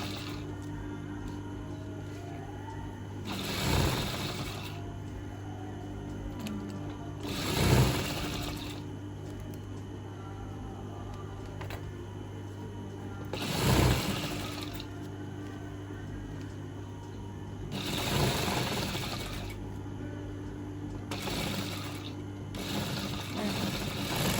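A sewing machine stitches a square pillow, running in several short, whirring bursts a few seconds apart against a quiet steady background, with someone speaking softly between runs.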